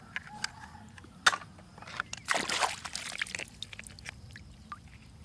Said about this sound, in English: So now I put some water.